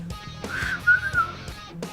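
A person whistling a short, fairly quiet rising and falling note, nearby, with a little background noise.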